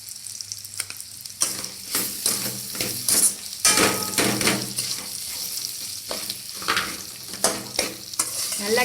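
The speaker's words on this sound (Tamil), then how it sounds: "நல்லா கிளறி விடுங்க." Salt and chana dal powder frying in a pan for a kovakkai rice dish are stirred with a spoon, giving repeated scraping strokes over a soft, steady sizzle close by.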